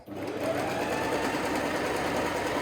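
An overlocker serger stitching fabric along a curve, running in a fast, continuous mechanical hum and rapid needle chatter at close range, steady from start to end.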